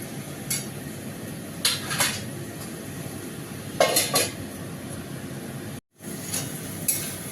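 Eggplant and potatoes stirred in a cooking pan, with a spatula clinking and scraping against the metal in a few separate bursts over a steady low background hiss, ending in a brief silence before more scrapes.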